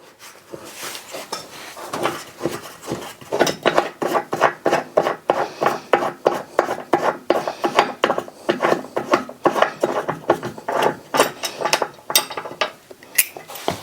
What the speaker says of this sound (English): Unscrew this knob here and take it totally out.